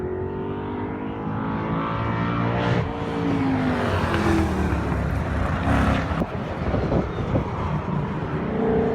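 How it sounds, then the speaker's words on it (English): Sports cars, including a white and blue Mustang, roar through a race track corner, engines loud and sustained with rising and falling revs as several cars pass in close succession. "this is the corner on the track that the sports cars are entering"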